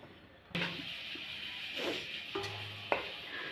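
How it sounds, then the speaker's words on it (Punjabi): Grated coconut roasts in ghee and milk in a pan, with soft frying sizzle under occasional spoon-against-pan clinks and scrapes, quiet and close. "ਨਾਰੀਅਲ ਦਾ ਬੂਰਾ ਆਪਾਂ ਦੁੱਧ ਵਿੱਚ ਐਡ ਕਰ ਦਿੱਤਾ ਥੋੜੇ ਟਾਈਮ ਤੱਕ ਇਹਨੂੰ ਭੁੰਨਾਂਗੇ"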